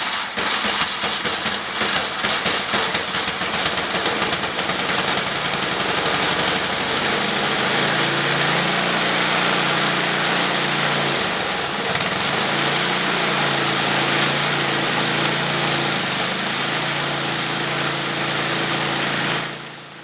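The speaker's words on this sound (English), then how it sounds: "I don't like starting these 8 horsepower motors by hand because they're a little tight" The 8 horsepower engine of a snow blower runs at a steady idle with a loud, continuous rattling drone close by that barely changes for twenty seconds before cutting off at the end.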